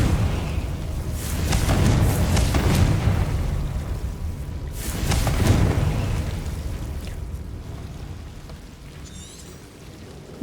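Two broad blasts of a Confringo fire spell exploding in Hogwarts Legacy, each a booming burst with a crackling tail, about three seconds apart over a rumbling game background.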